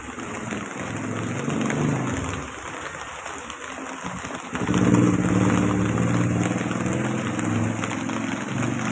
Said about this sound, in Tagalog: Mahina lang ang ulan.